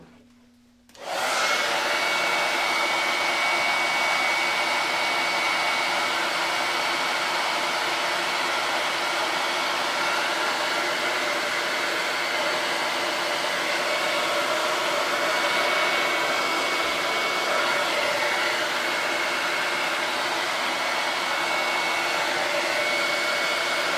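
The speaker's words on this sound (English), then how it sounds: "do you need a heat gun or would a hairdryer work on high?" A hair dryer running on its high setting to heat a reclaimed cupboard door panel, a steady loud whooshing blow that starts abruptly after a brief quiet moment and continues unbroken.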